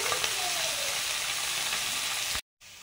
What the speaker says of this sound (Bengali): এগুলো ছোট মাছ, এগুলো ভাজা করবো।